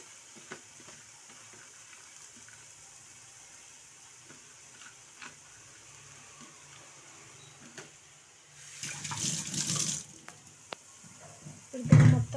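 Chopped spinach frying in a pan, a constant low sizzle that swells into louder scraping and stirring near the end, with a sharp clatter at the finish.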